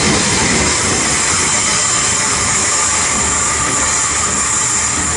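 A train runs past at Wetheral near Corby with a dense, continuous roar of wheels and rails, loud and close, holding steady without a break for several seconds.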